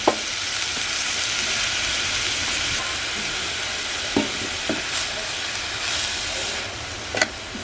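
Leafy Konkan monsoon vegetable is stirred and cooked in a kadhai, giving a steady close sizzle with a few scattered knocks and scrapes of stirring.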